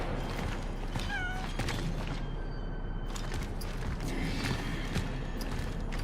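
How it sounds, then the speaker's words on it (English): A cat meows repeatedly inside the video game Cronos: The New Dawn, short plaintive calls spaced over a constant low mechanical hum and ambient drone, heard without speech. "I hear the meows, but I'm not sure where they are coming from."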